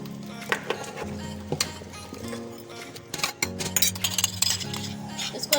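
Metal spoon clinks and scrapes against a pot while beef paye (trotters) is stirred together with a paste, a steady run of bright taps and clatter over a low hum of a burner or fan.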